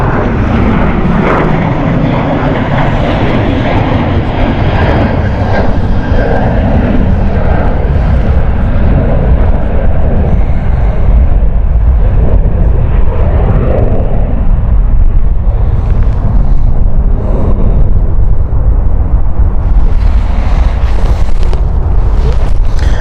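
A Pegasus Airlines jet at Stansted Airport roars loud and close, its heavy engine rumble and rushing noise filling the whole span without a break.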